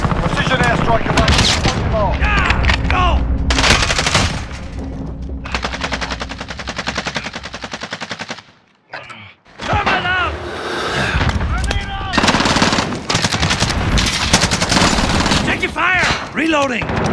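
Call of Duty gameplay is full of loud, rapid automatic gunfire in dense bursts, with a brief lull partway through, while players' voices shout over the shooting.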